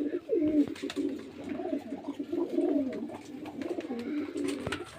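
Pigeons kept for sale in Beldanga, racing birds among them, coo continuously in a close, overlapping low murmur that runs throughout with no pauses.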